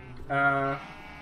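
A single Minecraft sheep gives one clear, short electronic-sounding bleat in a quiet game scene, with soft background noise before and after.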